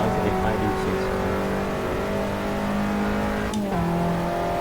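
Simulated Abarth 500 engine from Assetto Corsa revs steadily through cornering with tonal harmonics shifting, a brief tire squeal or gear change near the end, loud and close throughout.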